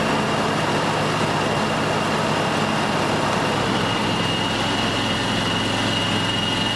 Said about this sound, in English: it's blowing air, blades are turning, blower's working